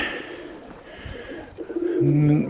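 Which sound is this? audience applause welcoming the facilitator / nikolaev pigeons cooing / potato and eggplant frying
nikolaev pigeons cooing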